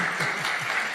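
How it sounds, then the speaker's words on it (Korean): A church congregation at a Korean-language Sunday service applauds to celebrate students: a brief, thick burst of many hands clapping at once, even and sustained with no voices over it. "이런 박수로 축하해 주시기를 바랍니다"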